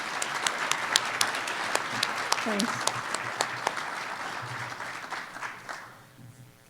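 An audience at a Q&A with an executive director applauds volunteers with a burst of steady, close clapping that thins out and fades toward the end; a voice briefly speaks over it.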